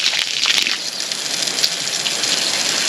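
Brown water gushes loudly and steadily from a newly connected water line on a homestead, a constant close hissing rush.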